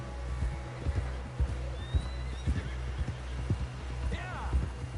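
A horse whinnies in Red Dead Redemption 2, a brief high call near the end, amid steady low hoofbeats and game ambience, with a voice speaking over it.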